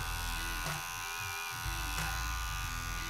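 Electric hair clippers buzz steadily and close up while leveling a flat top haircut against a straight comb, with the tone shifting slightly as the blade moves through the hair.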